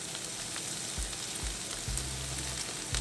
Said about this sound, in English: saute for another minute or so